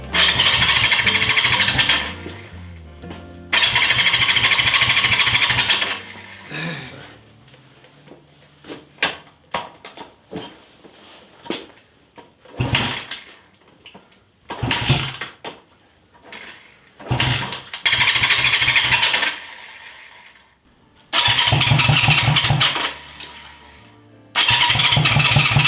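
A Honda CB350 motorcycle engine cranks over and over without catching after a carburetor rebuild: several long, loud, close bursts of rhythmic starter churning, separated by clicks, handling noises and pauses.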